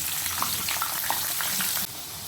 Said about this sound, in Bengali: ওই তেলেই আমি আলুগুলো ভেজে নেব।